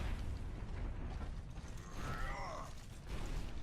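Mechanical creaking and ratcheting of a payload cart rolling along its track in a competitive team match, a steady grinding clatter throughout with scattered pops and bursts of combat in the background.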